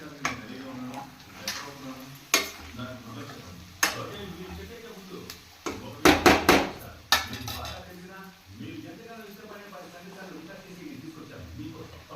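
Chicken liver and gizzard fry with crushed garlic being stirred in a pan, with scraping clatter and bursts of spoon-on-pan knocks over a low sizzle, close up, a voice talking throughout.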